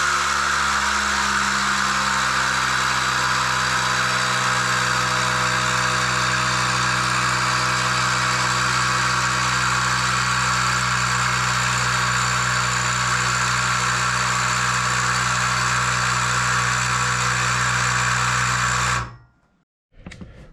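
A VIAIR air compressor inflates the air suspension on a Harley-Davidson Road King, running for about nineteen seconds as a loud, steady, buzzing whine close by, then cutting off abruptly into quiet, with no talking.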